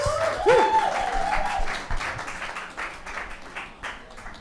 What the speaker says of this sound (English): Let's just give them a round of applause before they start.